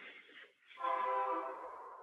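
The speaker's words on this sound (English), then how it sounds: "I have a train going by." A train passes on nearby railroad tracks, sounding a loud, sustained horn blast that swells after a brief dip and then holds steady, with rail noise underneath.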